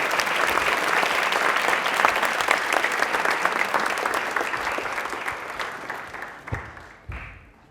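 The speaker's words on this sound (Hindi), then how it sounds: "बट एक बार तालियां जोरदार हो जाए।" Loud, dense applause from a television quiz-show studio audience in Rajasthan, sustained for several seconds before thinning out into a few last claps.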